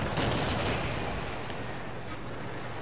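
Heavy tank cannon fire in World of Tanks, a deep booming blast with a long rumbling decay that fills the whole stretch, loud and close, with no talk over it.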